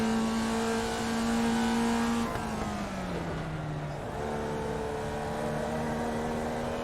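Formula Vee race car in iRacing at Oran Park, its engine droning steadily near and loud, dipping through a gear change before pulling on again down a straight at about 95 mph.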